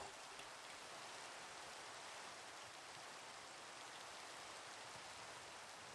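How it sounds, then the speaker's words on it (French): Rain in a video game falls as a constant, even hiss that stays dense and unbroken throughout, with no voices. "Il pleut."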